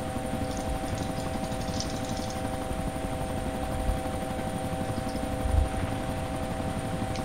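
Helicopter flying in ARMA II, a steady rotor and engine drone holding throughout with a few faint thumps, loud and continuous with no talk.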